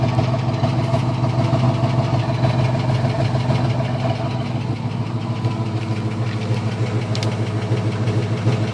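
Chevy 350 V8 with a Holley carburetor and Cherry Bomb Turbo mufflers running close by, a loud steady throbbing idle with an uneven lumpy pulse and no talking.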